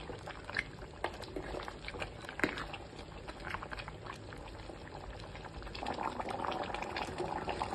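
A mutton bone stew simmers in a pot on the stove, a steady low bubbling and gurgling with small pops and occasional louder blips, heard close and alone for several seconds with no talking.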